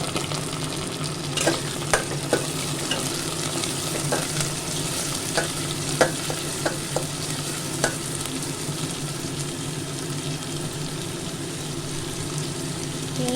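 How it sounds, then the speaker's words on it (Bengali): Prawns frying with chopped onion in a pan give a constant close sizzle, broken by intermittent clicks and scrapes of stirring at irregular intervals. "পেঁয়াজের ভাজা গন্ধটা বেরোতে আমি এর মধ্যে চিংড়ি মাছটা দিয়ে দিলাম"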